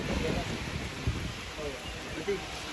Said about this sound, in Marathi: मजबूत पाऊस चाललाय.